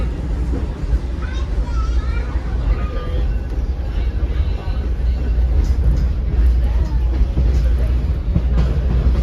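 A heritage train on the Missionary Ridge line near Chattanooga gives off a steady, close rumble and clatter that runs throughout, with someone narrating over it.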